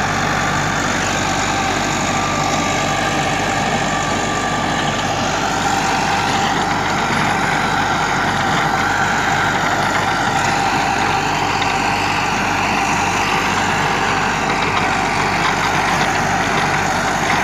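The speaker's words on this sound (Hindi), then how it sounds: "अच्छा रोटर का लग भी बिल्कुल ठीक जा रहा, कोई ऐसी ट्रैक्टर तंग भी नहीं कर रहा" A Massey Ferguson 385 tractor drives a rotavator through a field, its diesel engine droning loud and steady with a constant low throb and churning mechanical noise throughout, with no talk over it.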